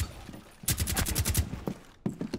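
Rapid gunfire in Rainbow Six Siege crackles in a tight burst of about ten shots, followed by a few scattered single shots, fairly faint and at mid distance.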